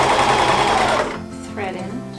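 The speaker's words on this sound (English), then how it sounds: "Make sure you backstitch to kind of seal that" Sewing machine backstitching along a curtain hem, a loud steady whir for about a second that stops abruptly, leaving quieter room sound.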